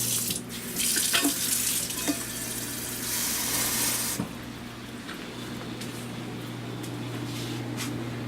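Water runs steadily from a tap into a tea kettle, a loud rushing stream that drops to a quieter, even flow partway through, with a low hum underneath.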